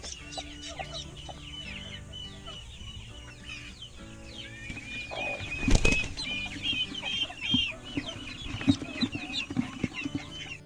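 A hen brooding a clutch of duck eggs on a free-range farm clucks repeatedly up close, with wing flaps and rustling bursts partway through and other chickens calling in the background.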